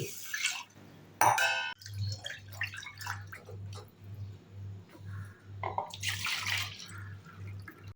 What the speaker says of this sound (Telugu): 1 కప్పు బియ్యం తీసుకొని శుభ్రంగా వాష్ చేసుకోవాలి.